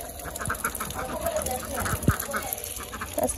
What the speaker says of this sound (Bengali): এই যে হাঁস এসে পড়ছে